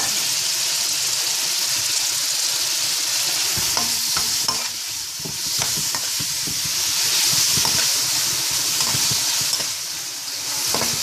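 Salted cod, soaked and wrung out, frying in a pot of oil and a little butter with a spice mix, sizzling steadily with close, irregular scraping and stirring clatter throughout.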